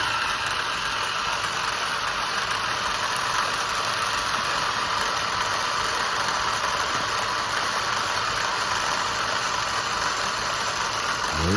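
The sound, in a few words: Traxxas UDR RC truck accelerating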